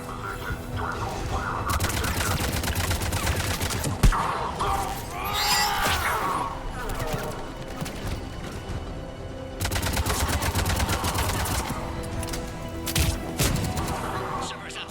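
Sustained rapid gunfire fills a Mass Effect 3 firefight, with repeated volleys and machine-gun bursts and a couple of sharp impacts, loud and continuous. Voices speak intermittently over the shooting.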